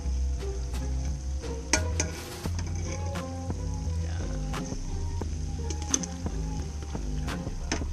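Oil sizzles and crackles steadily in a pan as milkfish (bangus) fries, close up, with scattered sharp pops and clinks of a utensil.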